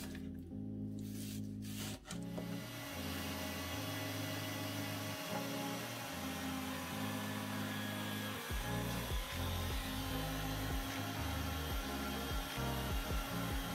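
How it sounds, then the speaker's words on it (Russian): An electric meat grinder mincing meat whirs at a constant pitch, its motor humming and grinding steadily for a long stretch, close by with no speech. "И удобнее будет его перемалывать через мясорубку."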